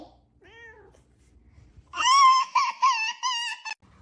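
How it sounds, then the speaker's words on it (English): A cat meows loudly several times in a quick, wavering series, preceded by a softer, shorter meow. "Don't meow meow meow at me."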